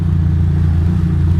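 Ducati Monster motorcycle riding over bumpy city streets, its engine a steady, loud, close rumble with low harmonic drone and no talk.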